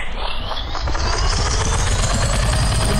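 A helicopter engine in the Roblox Airplane Simulator video game gives a steady, loud, close whirring roar with a faint rhythmic chop that holds unbroken for the whole stretch.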